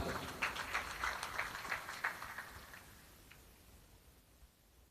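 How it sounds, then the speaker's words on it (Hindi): Audience applause at a ceremony honoring guests during a Shri Krishna birth celebration in Bairasia, heard as a burst of claps that gradually thins and fades away, fairly faint and slightly distant. "जोरदार तालियों से स्वागत।"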